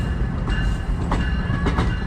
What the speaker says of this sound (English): So that's the train action here at Bound Brook.